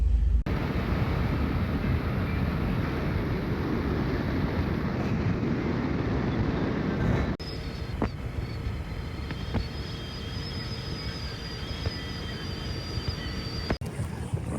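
A repaired boat's engine runs on a trial run, a steady loud drone mixed with wind and water rush, easing to a lower, steadier hum partway through.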